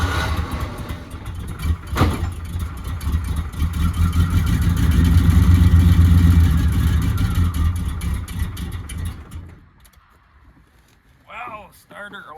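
A 1972 Chevelle that has sat unused for a long time cranks and fires, and its engine runs with a loud, rough, rumbling idle that swells and then fades, while voices talk over it near the end.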